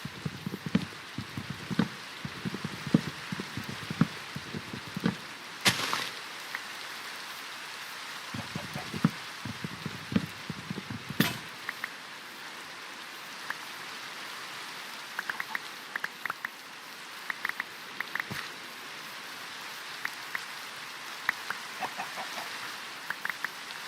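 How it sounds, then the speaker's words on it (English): Rain patters steadily on surfaces in a video game, soft and constant, with scattered drips and occasional brief louder taps along the way. "And just like that, it started to rain."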